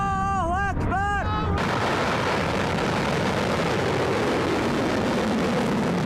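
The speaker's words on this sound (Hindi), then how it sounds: "और ये मिसाइल उड़ती हुई इस वक्त आप देख रहे हैं।" A missile launched in an Iranian attack roars in a steady, loud, broadband rush, preceded briefly by voices.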